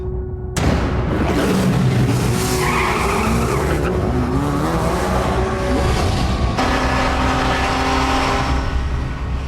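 A GT race car driven hard, with loud tire squeal and skidding over a roaring, revving engine that rises and falls through gear changes, close and continuous with no talk.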